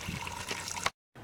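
Water trickles and splashes steadily from a solar water heater at close range, then cuts to silence briefly before resuming.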